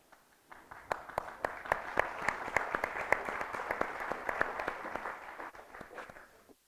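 An audience claps together in a dense, steady burst of applause at a literary reading, building quickly and holding for several seconds before tapering off, with individual sharp claps standing out from the crowd.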